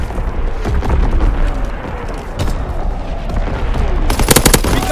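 Artillery barrage in Call of Duty WWII, a continuous rumble of heavy booms and overlapping gunfire that stays loud throughout, ending in a sharper cluster of close blasts.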